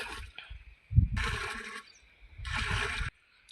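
Fresh desi cow's milk is poured into a barrel of jeevamrut slurry made with jaggery, rice flour, cow urine and water; two separate gushing pours splash loudly, each lasting under a second.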